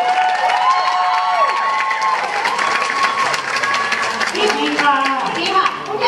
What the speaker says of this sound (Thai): ขอเสียงปรบมือให้กับทีมเขียนบทเลยนะคะ